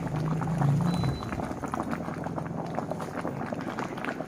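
Soup coming to a boil in a pot for a spicy Thai fish curry with jackfruit and dill leaves, a steady close bubbling burble with a louder gurgling surge at the start.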